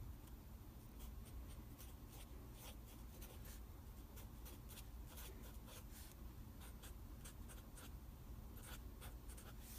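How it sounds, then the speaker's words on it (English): Marker or chalk scratches on a classroom board during a math lecture, giving a steady run of short strokes and taps, close but faint, with no talking. "Let me write them up here."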